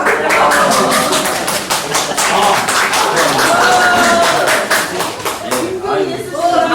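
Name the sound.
audience clapping in a lecture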